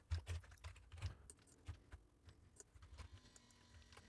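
Quiet typing on a computer keyboard while entering values, a run of soft, irregular key clicks close to the microphone, faint and with no talk over them.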